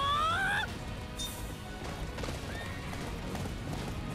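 A horse in the video game Attack on Titan gives a loud high neigh at the start, then hooves clop and gallop steadily in the background among faint game sounds.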